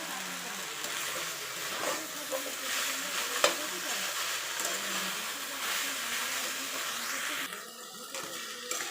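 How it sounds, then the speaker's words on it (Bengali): Chopped bottle gourd leaves fry in a pan with a pinch of salt, giving a steady soft sizzle under repeated scraping stirs of a spatula, fairly close, with no voices and a brief watery clatter near the end. "কেটে রাখা শাকগুলো এর মধ্যে দিয়ে আরও 1 চিমটে লবণ দিয়ে শাকগুলোকে ভালো করে হালকা হালকা করে আরও একবার ভেজে নেব"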